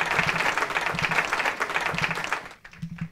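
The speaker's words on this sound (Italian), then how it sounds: "Facciamo un applauso a Rosa che ha scritto questa poesia." Audience applause after a poem reading at a women's event, brisk dense clapping that cuts off sharply near the end, followed by a few scattered claps.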